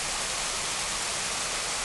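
A waterfall on a farm creek roars in a dense, even hiss of falling water, loud and close throughout with no voices.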